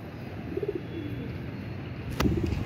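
Soft pigeon coos sound nearby, a few low throaty calls over faint background noise, with a brief sharp click partway through.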